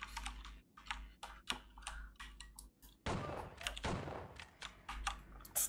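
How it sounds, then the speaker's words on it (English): Shotgun blasts in the Outlaws video game, a few sharp, loud reports with a heavy burst near the middle, separated by short quiet gaps and clicking sounds. "Shotgun, I think."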